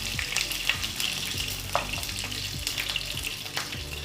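Mustard seeds, dried red chilies and curry leaves sizzle in hot oil, a dense steady frying hiss with scattered sharp pops from the seeds, close and unbroken, with no voices.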